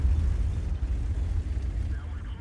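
A distant 8-inch howitzer shell blast in World of Tanks rumbles low and heavy, a sustained booming roar with a continuous dense low-end wash, under a voice talking.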